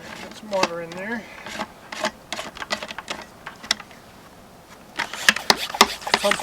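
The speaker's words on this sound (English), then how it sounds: "Pump it up here." A garden sprayer is hand-pumped in a series of quick, irregular rubbing and clicking strokes, close and fairly quiet, with a brief squeaky tone early and a flurry of sharper pumps near the end.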